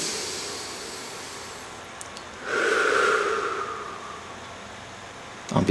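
A single long, slow breath is drawn in and released during a group hug ritual, soft and close, in an otherwise quiet space.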